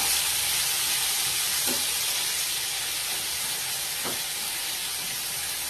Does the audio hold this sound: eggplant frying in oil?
yes